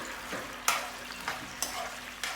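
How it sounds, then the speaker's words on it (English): Octopus being stirred into a thickening sweet and sour sauce in a pan, giving a soft background sizzle broken by four sharp spoon-scrape clicks at a steady, unhurried pace, close and fairly quiet, with no talking. "Just stirring everything to ensure that the octopus gets covered in the sauce."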